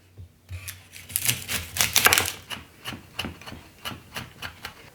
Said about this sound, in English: So I'm going to cut up my onion and garlic